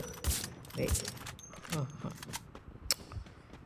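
Gunfire in the mobile battle-royale game Free Fire, a scattered run of sharp shots and mechanical clicks at moderate level, with a player talking excitedly over it.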